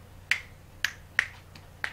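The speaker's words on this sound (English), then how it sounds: "We snap." Four crisp finger snaps in place of clapping, spaced unevenly over two seconds, sharp and close against a quiet background.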